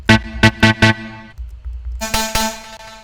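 Synthesizer notes played close and loud: four quick staccato stabs, a soft pause, then a sustained brighter chord with a couple of accented hits.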